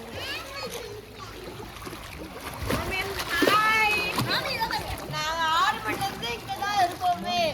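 Water splashes and churns as children swim and play in a resort swimming pool, close by, with excited kids' voices and adult chatter over and around the splashing.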